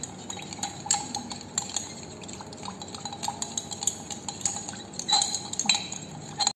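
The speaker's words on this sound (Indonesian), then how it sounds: "masukkan asam benzoat. Kita aduk hingga larut semua." A spoon stirs benzoic acid into a syrup solution, tapping and clinking against the glass container in irregular light knocks over a soft swirling wash, with a brief busier flurry near the end.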